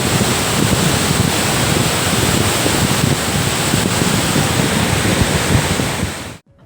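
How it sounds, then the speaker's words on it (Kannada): Vibhuti waterfall roars as a loud, constant broadband rush of crashing water with wind buffeting the microphone, cutting out abruptly at the end. "ಬೋರ್ಗೆರೆಯುತ್ತಿದೆ ಮನಮೋಹಕ ವಿಭೂತಿ ಜಲಪಾತ"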